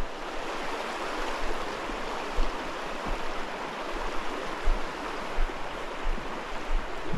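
A flowing trout stream by an old beaver dam, a steady broadband rush of water close by with occasional low bumps and no talk.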